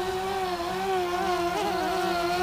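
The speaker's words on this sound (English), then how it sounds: "So let's throttle up." Motors of a Mirarobot M600 VTOL drone throttle up outdoors, a steady close high-pitched whine with strong harmonics that holds level and wavers briefly mid-way, no talk over it.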